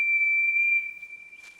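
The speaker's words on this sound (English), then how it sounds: "Percy blew his whistle long and loudly." A cartoon steam engine's whistle blown long and loud, a single piercing steady tone that cuts off abruptly.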